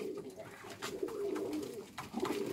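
Homing pigeons cooing close by in soft, repeated low throaty calls, with faint background noise and light rustling.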